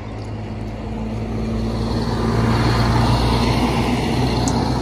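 Cars pull out near the Mecca train station, a low continuous rumble of motor traffic that swells slightly as vehicles pass, with broad outdoor noise and no talk.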